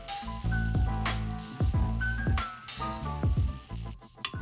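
Tomatoes charring in a hot pan give a steady sizzle broken by sharp pops and spatters every fraction of a second, moderately close and without talk.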